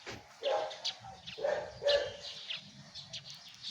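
A dog outdoors gives several short barks and yips in quick bursts, fairly close, over a low rumble of background noise.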